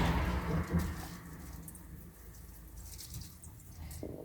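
Water poured from above into a houseplant's pot indoors, a brief splashy trickle at first that fades to faint soft dripping and wet sounds.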